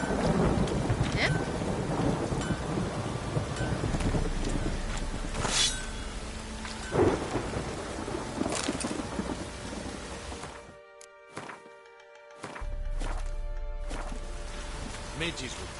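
Heavy rain hisses steadily in The Witcher 3: Wild Hunt while thunder rumbles and cracks close by, with a brief drop in the downpour near the end and characters speaking over the storm.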